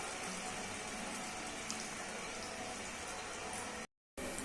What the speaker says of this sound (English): So you can see it's sizzling now.